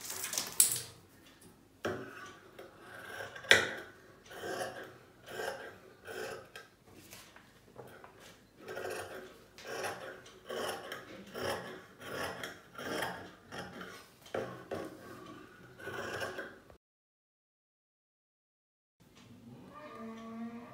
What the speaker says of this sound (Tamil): இப்போ அது கட் பண்ணிடலாம்.